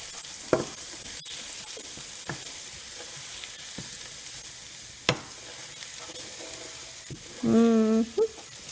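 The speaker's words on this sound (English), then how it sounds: "So we're gonna let it fry for about 2 minutes." Garlic frying in a pan for a homemade marinara sauce, a soft steady sizzle under sparse clinks and taps, with a short burst of higher clatter near the end.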